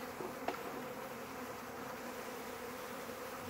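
Honeybees buzzing steadily during a package installation into a hive, a dense, even drone close by with no talk.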